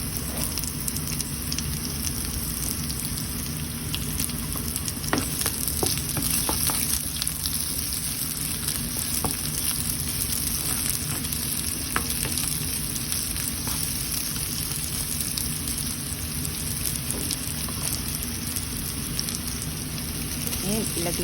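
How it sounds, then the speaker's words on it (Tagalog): Garlic and onion fry in a pan, a soft continuous sizzle and crackle at moderate distance that holds evenly throughout with no clear talk over it. "Lagay na po tayo ng garlic."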